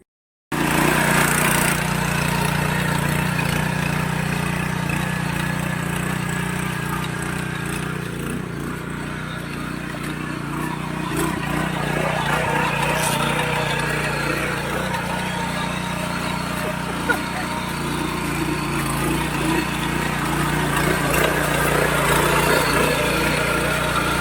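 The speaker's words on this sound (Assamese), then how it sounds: "ইফালে পথাৰত ট্ৰেক্টৰ" A small tractor engine runs steadily in a sandy field, a continuous close mechanical chugging drone that holds for the whole stretch with slight variations.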